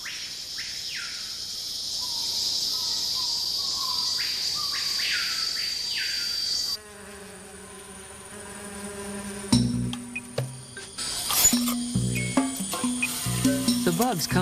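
Dense insect chorus in a Brazilian rainforest, with steady high buzzing and repeated cricket-like trills in the first half, then a shift to mixed chirps, clicks and bird-like calls, continuous and fairly close.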